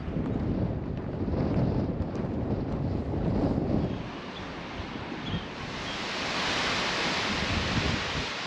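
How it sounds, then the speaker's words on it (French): An icy wind at about 4 degrees on the Icelandic coast, a steady broad roar of gusts buffeting the microphone, joined by a surf-like wash, with no voices. "par une température de 4 degrés avec un petit vent glacial"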